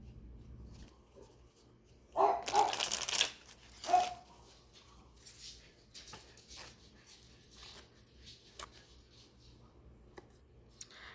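A fresh deck of playing cards is shuffled in two short, crisp riffling bursts, followed by quieter card handling and soft taps with no talking.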